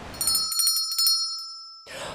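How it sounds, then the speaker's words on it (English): A small bell rung from inside a well shaft in a grim fairy-tale drama, bright ringing strokes that hang as a sustained tone and fade before a burst of noise. "he rang the bell after only a short distance"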